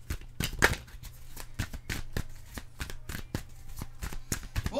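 Tarot cards being shuffled ahead of a five-card spread: a close, quiet run of rapid riffling bursts and soft slaps repeating in a steady rhythm, with no voices.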